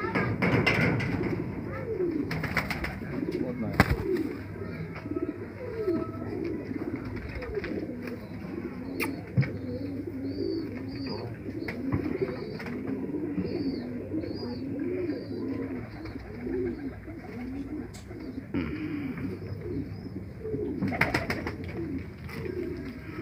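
Pigeons coo repeatedly in soft, rolling calls close by, with occasional taps and brief rustles through the background.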